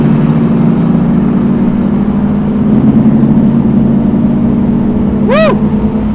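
A 1968 Pontiac Firebird engine runs with a steady, close low rumble throughout, and a brief rising rev swells near the end.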